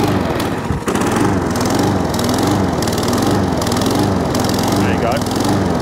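A petrol lawn mower engine with carburetor problems runs loud and close, its speed hunting up and down in a pulsing rhythm throughout while a person talks over it.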